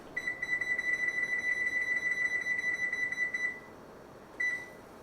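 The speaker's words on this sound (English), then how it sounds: "Turn my timer on." A kitchen timer beeps steadily in a rapid, high-pitched electronic run, stops, then gives one short final beep, close and clear in a quiet room.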